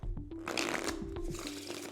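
Playing cards are shuffled up close during a card trick, a dense, crisp riffling flutter that runs steadily for about two seconds.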